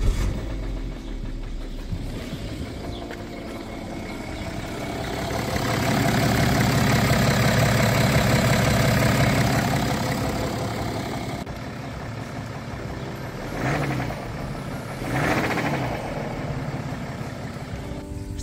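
A BMW F11 with an N57 diesel engine idles steadily, a low continuous rumble that swells slightly in the middle before settling, heard alone.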